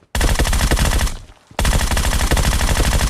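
A Groza assault rifle in a battle royale video game fires two loud, rapid full-auto bursts, the first about a second long, then a short pause before a second, longer burst.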